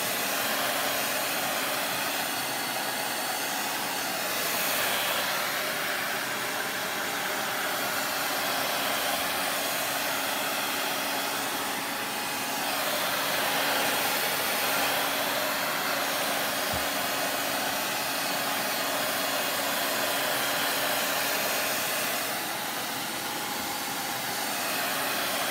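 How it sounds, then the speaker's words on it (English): A hair dryer runs in a steady, loud blowing whir while drying milk paint on a furniture piece, the airflow wavering slightly as it is moved, with no one speaking. "Dryer."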